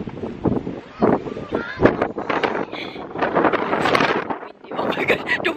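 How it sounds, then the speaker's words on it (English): Strong wind buffets the microphone in a continuous loud rumble while people walking to town talk over it. "Oh my god, the wind pushed me!"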